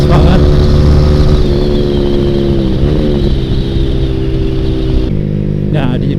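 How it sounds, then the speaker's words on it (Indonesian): A Yamaha R15 V3 motorcycle with a loud Ronin Hanzo NextGen aftermarket exhaust drones in a deep, steady rumble while riding, heavy wind buffeting mixed in and a slight pitch dip midway. "karena suara knalpotnya ya keras banget"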